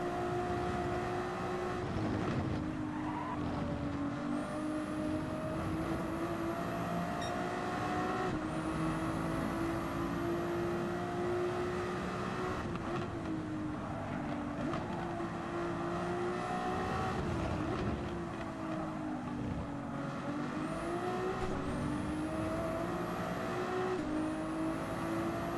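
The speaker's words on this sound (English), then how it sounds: "This is the Ferrari 296, for those wondering." A Ferrari 296 race car engine in Gran Turismo 7 drones steadily and loudly throughout, its pitch climbing and dropping with repeated upshifts and braking, with no voices over it.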